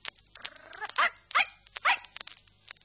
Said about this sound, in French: vous entendrez les 5 petits chiens aboyer comme